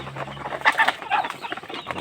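A mother hen on a Philippine farm clucks in a quick series of short, close calls, with a faint flutter of movement around them and no talk.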